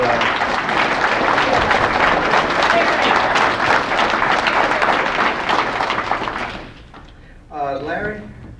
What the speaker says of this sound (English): How about if you two stand up and let's give a round of applause to Tony